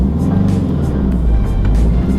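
A manual car's engine revved hard during a launch, a loud, close, sustained low roar with pulsing throttle that fills the whole moment.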